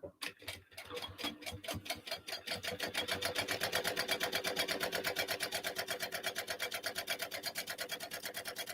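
Home sewing machine stitches a crossbody bag seam, starting with a few slow stops and then settling into a steady, fast rhythmic whirring of stitches that runs close and clear to the end.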